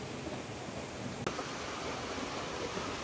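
Running water from a stream at Seetha Eliya near Nuwara Eliya gives a steady, even rush of noise, with one brief click partway through.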